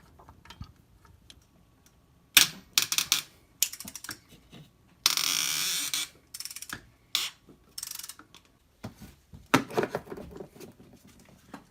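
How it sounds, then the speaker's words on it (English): Close ratchet clicking comes in short irregular bursts with pauses as a 14 mm lower mounting bolt is worked loose from a Subaru starter motor. The longest, densest run of clicks falls near the middle. "Just finishing up the 14 mil lower mounting bolt on the starter"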